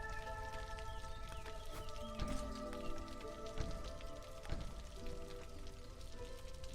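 Steady rainfall in a video game, soft patter of drops with a few sharper taps, under quiet tonal game music.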